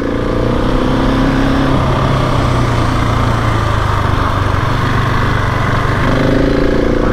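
Supermoto motorcycle engine droning steadily and loudly while the rider leans through a turn, a continuous close-up roar with slight pitch shifts as the revs change, with no talking over it.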